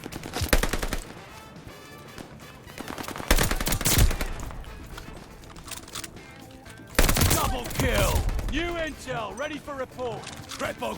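Bursts of machine gun fire in the shooter game Call of Duty: Vanguard, loud rapid volleys starting and stopping several times, with someone talking over the shooting.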